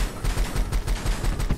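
Rapid gunfire from the video game Rusted Moss, a quick series of punchy shots in a steady rhythm, loud and close with no speech.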